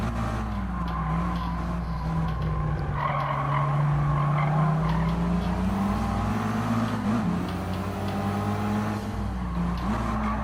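A race car in GT Sport brakes hard with tires squealing and skidding, a loud engine drone bending in pitch as it slows and shifts, continuous for about ten seconds.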